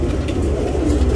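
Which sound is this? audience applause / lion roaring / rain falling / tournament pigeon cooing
tournament pigeon cooing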